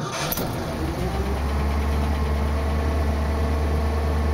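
A 1986 Ford F-250 pickup with an updated carburetor cranks briefly and catches, then settles into a steady, close, rumbling idle that runs on alone and evenly.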